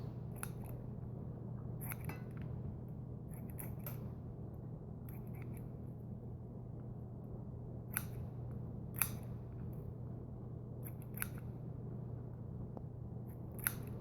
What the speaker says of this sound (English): I'm just going to use my kitchen scissors, my Cutcos